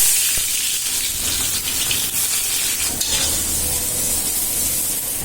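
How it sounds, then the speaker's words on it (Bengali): Onions fry in hot oil for a rui fish and stalk curry, giving a loud, steady, hissing sizzle that runs unbroken and close throughout with no voices. "আমার পেঁয়াজ ভাজা হয়ে গেছে"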